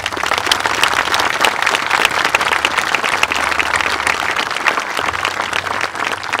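Crowd applause at a veterans monument ceremony, loud, dense and sustained, with steady clapping that continues without a break throughout.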